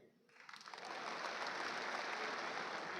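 Audience at a maulana's speech about Ajmer Sharif breaks into applause, swelling quickly from quiet into a loud, sustained, dense wash of clapping.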